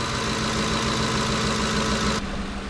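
2010 Ford F150 with a 5.4 liter Triton engine idling steadily and close, a smooth even hum with no talking, dropping slightly at the very end.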